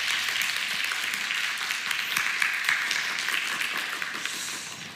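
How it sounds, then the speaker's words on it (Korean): A church congregation applauds as one, a steady wash of hand claps that holds at an even, fairly loud level for several seconds before easing slightly at the end. "우리 박수로 축복하도록 하겠습니다"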